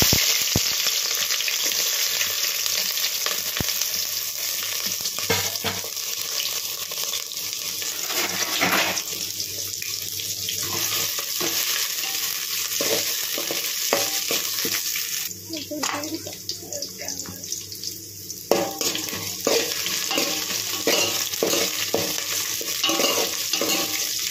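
Bagara rice is fried and stirred in an overheated, scorched pot, with a continuous loud hiss and sizzle and repeated scraping stirs, while a voice talks over it at times.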